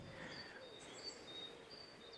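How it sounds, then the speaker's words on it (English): Faint birdsong drifts through quiet woodland on a steep hillside, thin high chirps scattered over a soft airy hiss, distant and calm with no voices. "You can hear lots of birds."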